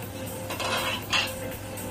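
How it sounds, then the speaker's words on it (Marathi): A pan lid is lifted off a pan of sheera, the semolina pudding cooked on low heat, giving a soft metallic clink and scrape that stands out briefly against faint kitchen background, with no speech. "आपण आता झाकण उघडून बघूया।"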